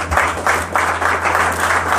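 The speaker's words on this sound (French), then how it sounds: "Nous applaudissons encore très fort l'auteur." Audience applause for an author at a book launch, steady close clapping from a crowd that keeps an even rhythm and stays at one level from start to finish.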